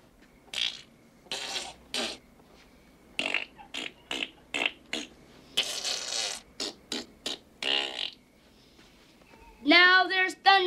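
A voice imitates farting in a series of spluttering noises, short bursts in an irregular rhythm, ending with a longer buzzing raspberry.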